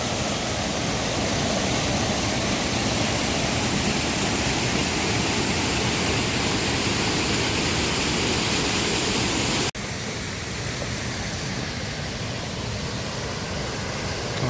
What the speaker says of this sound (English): The next waterfall.